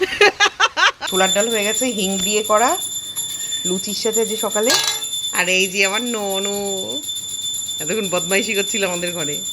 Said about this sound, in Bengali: এই যে ঘন্টার আওয়াজ পাচ্ছে